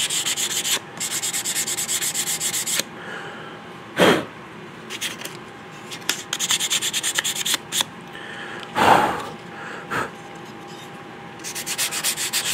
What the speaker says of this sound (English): Switching up my placement on the sandpaper. Again, I'm not pressing hard. We're just gently going over everything.